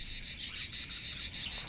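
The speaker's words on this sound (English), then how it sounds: "the cicadas begin to sing at dawn when the sun strikes the trees" Cicadas sing in trees at dawn on a calm, cloudless day, a steady high buzzing drone with a gentle pulsing swell, continuous and fairly close.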